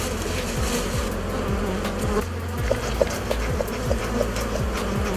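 A new honeybee swarm buzzing at a hive, a dense, continuous drone of many bees close by, with faint wingbeat whirs of single bees passing over the steady hum and no voices.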